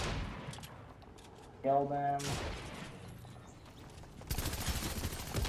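SMG gunfire in Fortnite, a rapid burst of automatic shots near the end following a tonal game effect, with a brief spoken word partway through.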